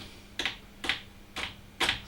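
Keystrokes on an Apple I computer keyboard: four sharp, separate clicks spaced roughly half a second apart, close and clear over a low steady hum.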